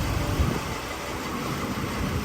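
A Ford Everest 3.2 running on a newly fitted replacement engine idles steadily, giving a continuous low, even mechanical hum with a broad noisy wash and no voices.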